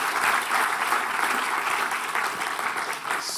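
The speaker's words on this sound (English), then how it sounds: "Let's give them a round of applause." An audience at an OECD Forum talk on artificial intelligence gives a round of applause, a dense, steady wash of clapping from a large crowd that carries on throughout.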